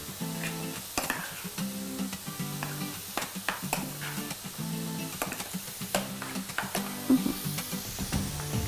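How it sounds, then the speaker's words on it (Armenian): A spoon stirs cranberries into a bowl of oat flakes for breakfast, giving steady close scraping and rustling with soft clinks running through the whole stretch, and no talk. "Այսպես ավելացնում եմ և խառնում եմ։"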